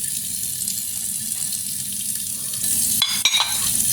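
Water draining steadily from a dish drying rack into a kitchen sink, a continuous close trickle and splash that swells near the end, with no talk.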